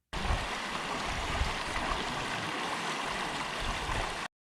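A river flowing steadily at a hiking trail crossing, a constant broadband rush of moving water, close and fairly loud throughout with no voices.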